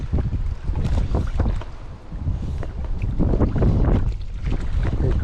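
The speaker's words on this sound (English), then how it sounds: "Here comes the wind again." Wind gusting over Ladybower Reservoir in Derbyshire while fly fishing, a loud buffeting roar against the microphone with choppy water, surging in waves and dipping briefly mid-way before building again.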